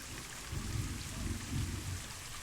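Steady rain falls in the zoo-building game Planet Zoo, a dense, even hiss with low rumbling swells, heard alone without talk.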